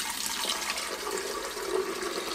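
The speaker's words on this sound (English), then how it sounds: "Fill with water to the max line." Filtered water poured into the reservoir of a Ninja Hot and Cold Brewed System coffee maker, a steady, fairly loud splashing stream that runs continuously without a break, with no talking over it.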